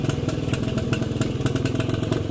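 An old Suzuki Crystal motorcycle engine running close by, a loud, steady, rapid putter with an even pulsing beat throughout, no voices.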